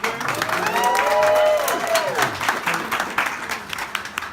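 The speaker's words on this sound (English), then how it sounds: "I want you all to give a big rousing applause for her as well." Audience applause at a Black History Month tribute reception, a sustained wash of clapping from a crowd, with a voice speaking over the start and the clapping carrying on afterward.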